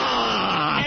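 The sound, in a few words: exaggerated imitated yawn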